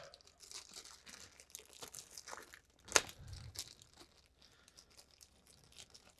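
Plastic packaging from a Gundam model kit crinkles and rustles softly, then a sharp tear lands mid-clip, followed by more light crackling at close range with no talk.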